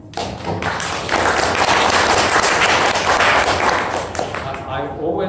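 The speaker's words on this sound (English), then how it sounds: "I always like it when you clap before the talk" A university lecture audience at the University of Toronto claps before a talk, a loud dense burst of many hands that swells, holds and then tapers off.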